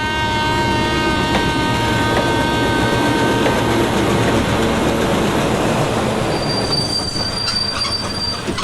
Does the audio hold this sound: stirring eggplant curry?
no